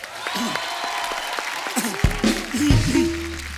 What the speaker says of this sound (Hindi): एक मेरे लिए नहीं, विसिल ब्लोअर की टीम के लिए एक बार जोरदार तालियां